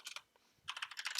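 Quick bursts of keystrokes on a computer keyboard, close and crisp, a short run of taps, a brief pause, then another rapid flurry.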